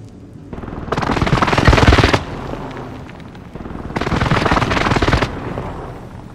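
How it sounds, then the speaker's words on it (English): Sustained airstrike gunfire in the Warzone video game, two long loud bursts of rapid fire about a second apart, filling the clip without speech. "Airstrike! Target marked! This is Phoenix 3, strike inbound."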